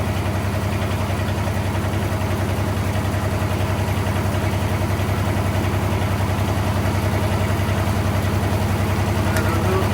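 A Kubota G1800 diesel garden tractor engine idles in a steady, low, even chug, loud and close, running continuously without change in pace.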